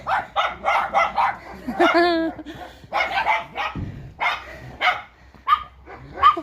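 Nearby dogs bark and yip excitedly in short bursts, with a whiny, high-pitched yelp mixed in and a voice heard among them.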